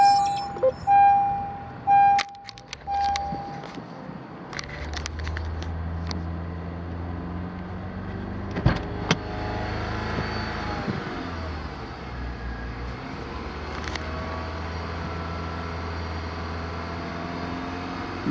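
A Honda CR-V engine starts after a brief beep and clicks, then settles into a steady raised idle held around 3,000 RPM, a constant droning hum with a few small clunks.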